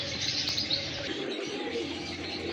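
Kasuri pigeons coo and chirp close by, with soft bird calls over a continuous background hiss and a brief flutter of movement.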